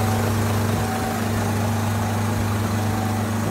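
Dump truck engine running steadily with the PTO engaged to raise the dump bed, a constant loud low hum with a droning tonal whine and no change in pace.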